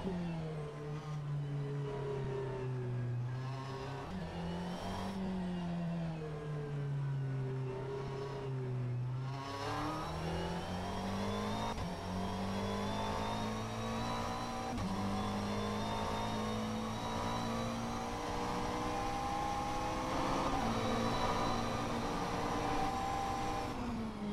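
Race car engine in a sim racing game droning steadily for the whole stretch, with its pitch sweeping up and down through gear changes and a strong rise as the car accelerates; loud and continuous, with no talking.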